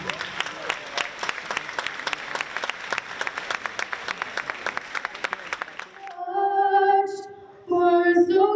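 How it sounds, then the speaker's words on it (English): Applause for volunteers rings through a school gym at a girls volleyball night, crisp rhythmic clapping for about six seconds, then it stops and a sung anthem begins. "How about a big round of applause for our volunteers this evening?"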